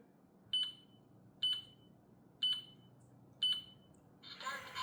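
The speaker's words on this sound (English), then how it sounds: "After 4 beeps, it start packing, and let you know it's gonna start packing the bags." An Airdeer smart trash can gives four evenly spaced electronic beeps, each short and clear, before its motorized bag-sealing starts with a louder whirring at the end.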